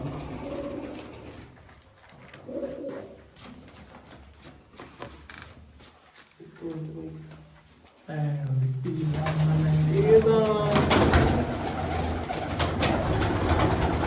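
Pigeons coo in low, repeated throaty calls alongside people talking, with a louder busy stretch of chatter and rustling noise in the second half.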